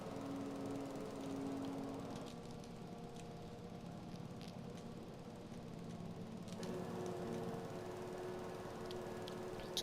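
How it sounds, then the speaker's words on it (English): Lawn mower cutting a yard at an abandoned farm, its engine droning steadily and fairly close, with slight shifts in pitch and load as it moves, no talk. "I guess we're gonna mow the rest of this."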